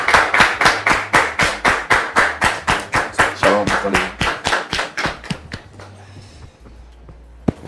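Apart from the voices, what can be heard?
audience applause welcoming a guest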